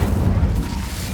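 An Incendio fire spell cast in the Hogwarts Legacy video game during the Pensieve Guardian boss fight gives a short, loud, low whooshing boom that fills the whole moment without a clear break.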